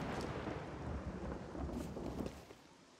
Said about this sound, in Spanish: Vaya día de relámpagos y de truenos.